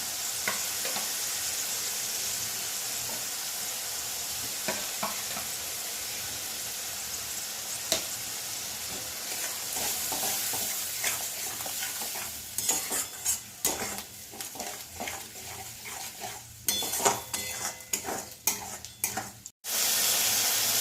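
A duck egg curry fries in oil after two spoons of yogurt go in, sizzling steadily at first, then broken by frequent scraping stirs and clatters toward the end, with no voices.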